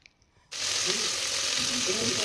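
A handful of mint dropped into a hot pan for ghee rice, an abrupt loud sizzle that starts suddenly and holds steady and close.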